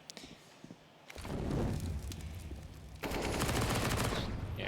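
Rapid automatic gunfire from the video game Counter-Strike during an IEM Cologne 2022 match between Heroic and mousesports, loud and dense, with bursts that swell and continue almost without a break.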